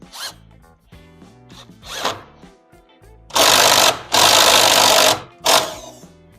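Power drill boring an entry hole for a router bit during a Sugatsune HES3D-120 hinge installation, two loud, close bursts of drilling after some lighter handling clicks and whirs.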